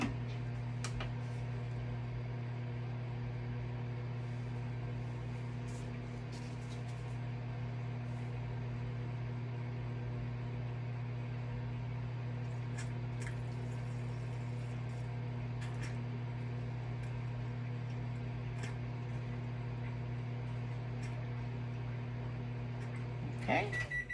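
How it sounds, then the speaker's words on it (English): A microwave oven hums steadily as it melts soap base in short bursts, a constant low drone with faint ticks and small clicks, no talking. "melt it in the microwave in 30-second bursts"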